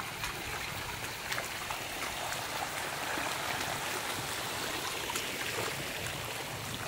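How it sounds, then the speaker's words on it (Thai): Floodwater flowing across a road on a farm: a steady, broad rushing wash of water, continuous and fairly loud throughout with no pauses. "นี่อีกฝั่งถนนนึงนะน้ำข้ามถนนมา"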